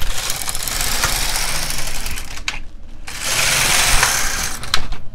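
An LK 150 knitting machine knitting rows, the carriage sliding with a steady loud clattering whir, a brief pause in the middle, then another pass with bright rasping clicks.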